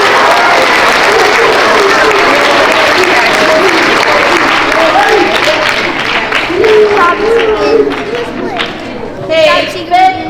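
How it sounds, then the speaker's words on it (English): An audience at a 4th to 6th grade school Character Education assembly bursts into loud, sustained applause, many hands clapping densely together, with some cheers and chatter mixed in as it tapers toward the end. "one big round of applause for our 6th grade"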